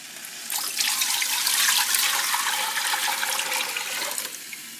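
Water pouring steadily into a cooking pot for a one-pot chicken and rice dish, a continuous broad rushing splash that swells after the start and holds fairly loud before easing off near the end, with no talking.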